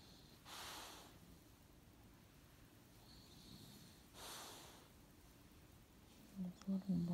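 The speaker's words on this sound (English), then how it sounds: "some heavy snoring there." Dog snoring heavily, two slow raspy breathing swells spaced a few seconds apart, faint and close, with brief rustling or handling sounds at the end.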